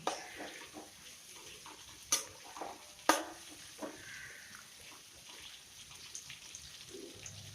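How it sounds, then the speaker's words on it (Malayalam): Jackfruit is stirred and roasted in a pan for chakka payasam, giving a soft, continuous scraping and sizzling with a few sharper clinks of the spoon against the pan. "നമുക്കിവിടെ ഈ ചക്ക നല്ലതുപോലെ ഒന്ന് വരട്ടിയെടുക്കാം."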